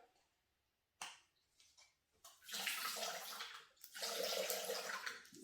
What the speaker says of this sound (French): pour ceux qui ont le TM6, je vais mettre 250 g d'eau.